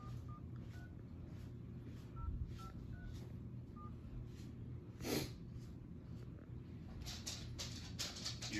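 A series of short telephone dialing tones beeps at uneven intervals over a low background hum, with a faint breathy rustle partway through.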